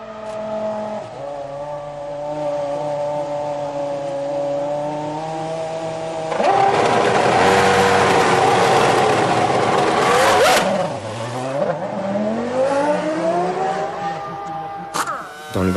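Formula 1 cars at the 2005 French Grand Prix, McLarens among them, scream past loudly with high harmonic engine whine rising and falling, a car surging through near the middle and dropping away under upshifts and downshifts.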